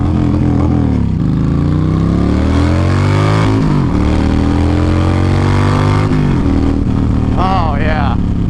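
A Yamaha Stryker chopper motorcycle revs loudly up close, its engine note climbing and dropping in long sweeps through several throttle blips in a quiet neighborhood.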